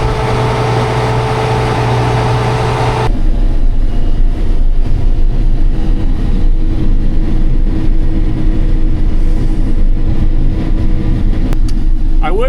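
A custom harvester's engine runs steadily while its chopper is raised over a windrow of about ten acres, a loud, constant low rumble and drone heard close from the cab, with a shift in tone after about three seconds.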